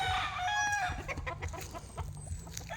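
Chickens clucking close by at a farmyard lot, a busy run of short clucks with one bird's drawn-out call near the start, over a low background rumble.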